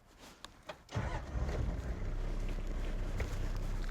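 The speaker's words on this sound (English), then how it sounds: "I'm going to start the car, put it in first" A vehicle engine cranks and catches, then settles into a steady low idle rumble close by, with faint wind noise, during an off-road winch recovery setup.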